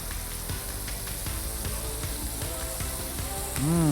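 Fish fries in a pan with a steady, moderate sizzle and scattered crackles and pops, ending in a brief louder burst as the pieces are flipped; nobody speaks.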